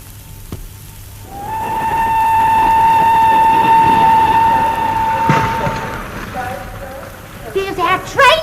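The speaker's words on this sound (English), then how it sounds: "Here's our train, Joe." A train arriving at a station sounds its long, droning horn close by, then fades amid rumbling and clatter, with voices talking briefly at the end.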